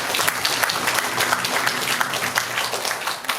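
An audience at a Pocheon humanities-city forum applauds a presenter after a keynote talk, dense steady clapping filling the room at close range for the whole stretch.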